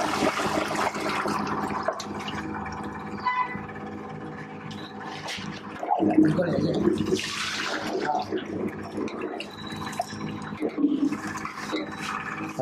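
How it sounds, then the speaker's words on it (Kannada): Coconut masala mixed with water is poured into a pot of mutton in a military hotel kitchen in Sarjapura. Irregular sloshing and splashing pours rise and fall over kitchen background noise, with a stronger gush about midway. "ಇದು ಕಾಯಿ ಮಸಾಲ ಇದರಲ್ಲಿ ಹಾಕ್ಕೊಂಡು ನೀರು ಹಾಕ್ಕೊಂಡು ಇದನ್ನು ಮಿಕ್ಸ್ ಮಾಡ್ಕೊಂಡಿದ್ದಾರೆ. ಮಿಕ್ಸ್ ಮಾಡ್ಕೊಂಡಿರೋದು ಈಗ ಇದರಲ್ಲಿ ಹಾಕ್ಕೊತಾ ಇದ್ದಾರೆ."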